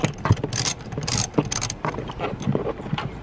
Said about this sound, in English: So now you just take a 14 millimeter ratchet and you undo it.